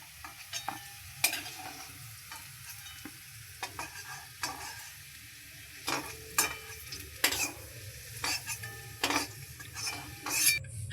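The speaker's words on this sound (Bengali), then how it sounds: "এই একইভাবেই আমি আলুগুলোকেও ভেজে নেব।" Potatoes fry in hot oil in a wok in a home Bengali kitchen, a continuous close sizzle broken by repeated scraping stirs of a utensil against the pan, with no voices.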